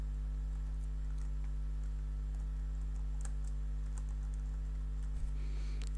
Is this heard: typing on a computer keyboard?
yes